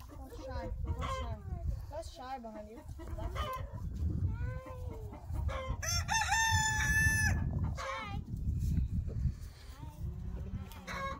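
Chickens cluck and a rooster crows repeatedly inside a busy coop with young chicks, the crowing loud and near, while people talk over the flock throughout.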